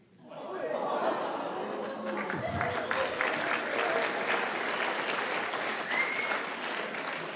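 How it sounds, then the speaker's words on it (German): Audience at a cabaret show clapping in a sustained burst of applause, loud and continuous, with scattered chuckles and a voice or two mixed in before it thins slightly toward the end. "Können alle Opas mal klatschen, bitte?"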